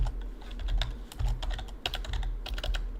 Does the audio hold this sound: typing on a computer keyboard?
yes